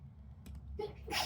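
A short, sharp sneeze bursts out at close range after a brief quiet breath.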